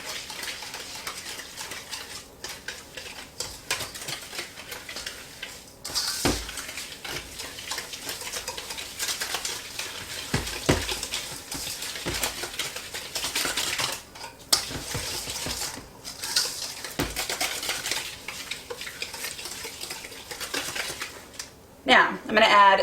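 Granulated light brown sugar and white sugar are stirred together in a mixing bowl for chocolate chip cookie dough, making soft scraping and clinking that runs on and off through the clip under quiet background sound.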